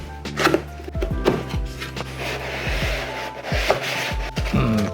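Someone opens the cardboard box of a GX4 CPU cooler at close range, with a run of scraping and rubbing of cardboard and packaging, broken by soft knocks and taps.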